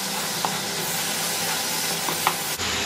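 A soft, steady sizzle of grated raw papaya mixed with milk and milk powder roasting in a pan, with faint stirring scrapes and a couple of small clicks, no talking.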